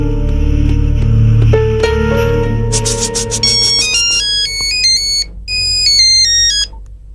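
A mobile phone ringtone plays loudly and close, a bright melodic electronic tune of stepping tones that rises and repeats, alone with no talking.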